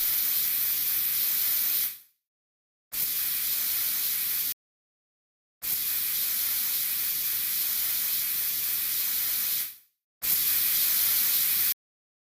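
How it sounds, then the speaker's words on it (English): Water sprayed onto a cement surface to clear dust before slabs are laid, a steady broadband hiss in several bursts of one to four seconds separated by abrupt silences, close and loud, with no talk. "First, we spray the surface with water to remove dust and improve the adhesive bond."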